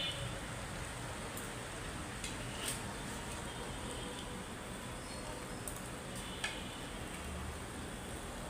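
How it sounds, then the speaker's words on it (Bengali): Heavy rain falling outside a building, a faint, steady wash of patter with occasional sharper drips or ticks, heard from indoors at a distance, with no voices. "অনেক জোরে বৃষ্টি হইতেছে।"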